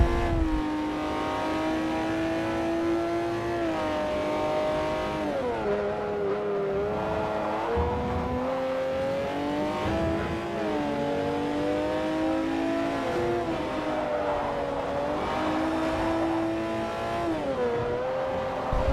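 BMW race car engines in the Forza racing video game, several high revving engines whining and shifting through gears continuously, loud and close, with rising and falling pitch sweeps.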